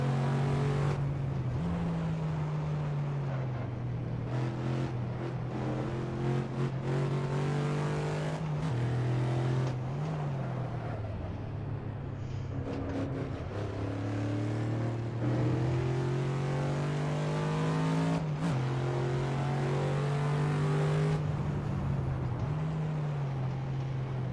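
A car engine in a racing video game revs and drones steadily for the whole stretch, its pitch rising and dipping with throttle shifts and gear changes, fairly quiet and continuous, with no talk.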